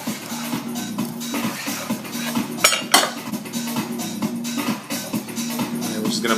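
Cooked steak is plated onto a dish, with repeated clinks and scrapes of cutlery against plates and a steady low hum in the background. Two sharper clatters ring out in the middle.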